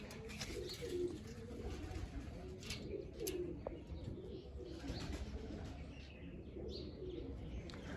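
Faint, quiet cooing and light chirps from large female pigeons being dyed with color, heard at low level in a murmuring indoor space.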